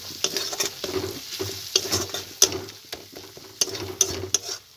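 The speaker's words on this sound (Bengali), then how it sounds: "দিয়ে ভালো করে মশলাটা একটু কষিয়ে" Ground spices with coriander powder are stir-fried in a kadai for a prawn malai curry, sizzling while a spatula scrapes and clinks against the pan in irregular strokes.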